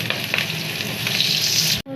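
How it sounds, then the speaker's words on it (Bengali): Ridge gourd and potato pieces with cumin seeds, green chilli and spices frying in a pan, a loud, dense, close sizzle that holds steady before cutting off abruptly near the end. "ঝিঙে আলু মশলা টশলা দিয়ে সব কষানো হচ্ছে"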